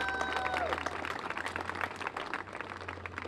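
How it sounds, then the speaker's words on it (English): An audience at a neon sign relighting event at the Avenue Theater in Portola claps in a steady, moderately loud round of applause, with a brief tonal sound fading near the start and some crowd murmur mixed in. "Let's give Phil a round of applause."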